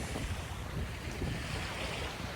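Steady wind gusting over open water from a boat while fishing for catfish with a cast net, a continuous loud rush with surf-like wash and microphone buffeting, no voices.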